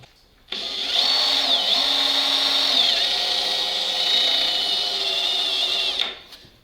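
A drill with a German bit bores into metal on a BRDM-2 amphibious armored vehicle. One steady, loud, high-pitched whine runs about five seconds, its pitch dipping slightly under load, then winds down.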